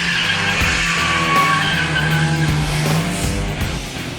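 A BMW M3 does a burnout start, its tires squealing and skidding loudly and continuously while the engine roars underneath, close and intense throughout.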